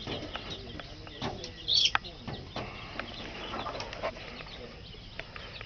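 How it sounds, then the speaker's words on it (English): About two hundred chickens in a pen, with scattered clucks, chirps and brief wing flaps, including one sharp louder call near the middle, over a busy low background. "New update on some chickens here."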